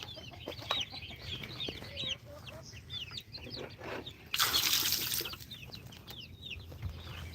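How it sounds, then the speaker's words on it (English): Chickens clucking and chirping in a backyard flock, many overlapping short calls at a moderate distance over a low rumble, with a brief burst of rustling noise midway. "All right, chickens."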